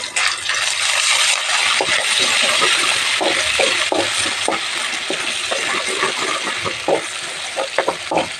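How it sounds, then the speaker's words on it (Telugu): Ginger garlic paste fries with cumin in a pan, giving a loud steady sizzle with scattered clicks and scrapes of a spoon stirring through it. "అల్లం వెల్లుల్లి పేస్ట్ కొంచెం వేగనివ్వాలండి"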